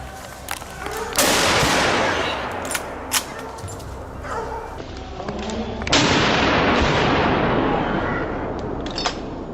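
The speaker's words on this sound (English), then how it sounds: "let a precise burst of shots fly, leaving the hog no room to escape" A burst of rifle shots at a wild boar rings out, several sharp reports with long echoing tails, loud and close, overlapping a busy, noisy outdoor background.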